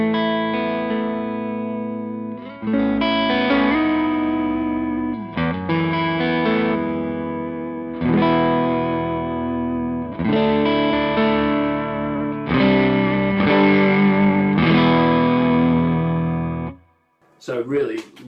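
Electric guitar runs through a Majestic overdrive pedal, strummed chords ringing out in loud, sustained phrases with a few short breaks, close and full, then a brief pause and a last scrape at the end.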